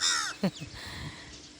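A crow caws once nearby in farm fields with big trees, a loud harsh rasping call standing alone, followed by quieter rustling and faint background noise.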